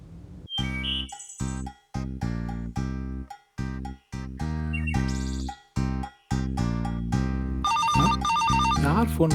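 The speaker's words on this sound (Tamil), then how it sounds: "யார் ஃபோன் பண்றது?" A telephone rings repeatedly in a bright electronic bell tone, with short bursts separated by brief gaps, loud and close. It ends in a denser jingling ringtone passage, with no speech over it.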